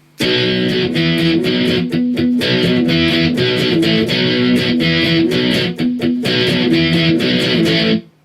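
Heavy distorted electric guitar runs through the intro riff of a song twice, loud chugging chords in a steady, punchy rhythm with short breaks, played alone without talking.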